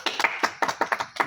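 A small classroom group gives a short burst of applause, about eight distinct, uneven claps in quick succession, close and fairly soft.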